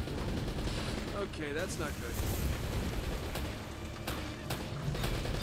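A rocket launcher fires in Uncharted: Drake's Fortune Remastered amid a dense, loud firefight of booming blasts and gunfire, while a player talks over the action.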